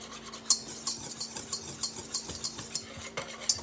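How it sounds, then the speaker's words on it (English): Whisk stirring flour, salt, baking soda and cinnamon together in a bowl for oatmeal chocolate chip cookies; rhythmic scraping strokes with light metallic clicks against the bowl, close up and steady, with no talking. "let me get a whisk here. It's going to take me a whisk and kind of whisk all this together a little bit"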